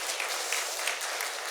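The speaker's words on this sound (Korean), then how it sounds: "격려의 박수 한번 드리도록 하겠습니다" Congregation clapping during a church service to encourage four elders, a brief, dense burst of applause that stays fairly even for its whole length.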